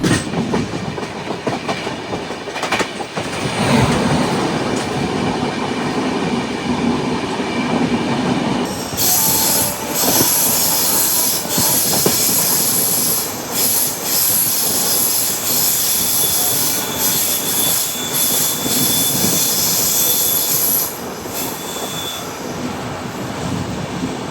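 A Rajdhani Express coach, built at Rail Coach Factory Kapurthala in December 2020, rolls along rails on the Bengaluru to Hazrat Nizamuddin route with a loud, steady rumble, rhythmic wheel clatter and a sustained high metallic squeal from the wheels.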